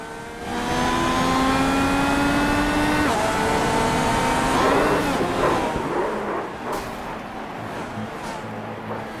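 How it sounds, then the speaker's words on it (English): Race car engine in an online California 500 race droning at steady partial throttle, with rising and falling harmonic tones and a brief shift in pitch, loud and close throughout and not fully opened up. "It sounded like he was only half on the throttle the entire time."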